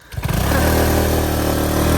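Motorbike engine revving hard under heavy strain while climbing a steep mountain road, rising quickly from a low start into a loud, sustained high-throttle drone held steady to the end, with no talk.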